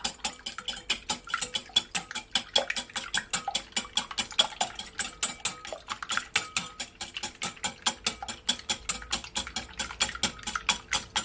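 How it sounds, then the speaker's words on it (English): A whisk beats an egg in a bowl for French toast, giving fast, steady rhythmic clicking and tapping against the bowl throughout, close and moderately loud with no talking. "I'm just gonna whisk it"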